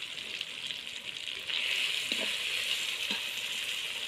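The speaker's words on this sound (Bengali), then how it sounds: "মশলাটা কষিয়ে নেব।" A spice paste of ground coriander and cumin with salt and turmeric fries in a pan, hissing steadily and close by, with a couple of soft stirring scrapes and no voices.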